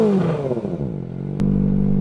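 A four-cylinder 250cc motorcycle fitted with an aftermarket exhaust muffler rumbles loudly and close up, its engine settling from a falling rev into a steady, deep idle drone.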